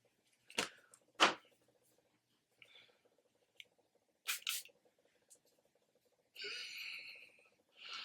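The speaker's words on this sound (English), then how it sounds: "I'm just going to go in with setting spray" A few soft hissing bursts of Charlotte Tilbury setting spray, mixed with sharp clicks and handling noises in a quiet room; the last sprays form a longer, steadier hiss.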